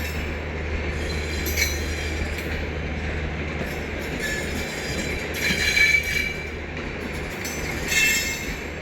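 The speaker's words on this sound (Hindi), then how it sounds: "दोनों ही ट्रेनें अपनी स्पीड से चल रही हैं" Two trains run side by side at moderate speed, giving a steady rumble of rolling wheels with intermittent high wheel squeal and faint clatter, continuous throughout with no talk.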